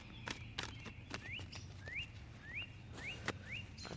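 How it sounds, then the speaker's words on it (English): Birds chirping outdoors, a faint, repeated series of short rising whistled notes at a steady pace, mixed with scattered sharp clicks and a low background hum. "I guess they want us to hear the birds."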